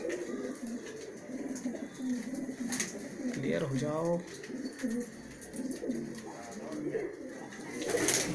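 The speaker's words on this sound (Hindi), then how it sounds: "ढले हुए चंग के कबूतर आपको दिखा रहे हैं अभी हम" Malwai pigeons coo in soft, rolling bursts, fairly close, with a voice speaking over parts of it against a busy outdoor background.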